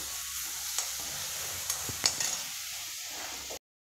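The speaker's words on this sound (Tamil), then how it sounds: "நம்ம அந்த இஞ்சி பூண்டு பேஸ்ட்டை போட்டுடலாம். இது வதங்கட்டும்." Ginger garlic paste sautéing in a pan for a roadside-style salna, heard as a faint steady sizzle with a few light spatula taps, quiet and close with no voices, ending abruptly.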